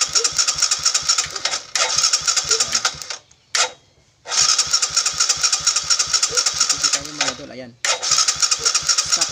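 A motorcycle engine on its stock CDI starts and idles loudly and close, with a rapid steady putter. It cuts out twice briefly and is restarted, and someone speaks a short word over it.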